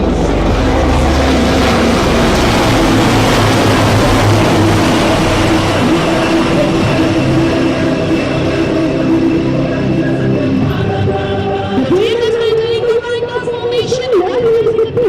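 Sarang helicopter display team of the Indian Air Force flies over a passing out parade at the air force academy, a loud continuous rotor and engine roar filling the air, with a rising tonal whine near the end.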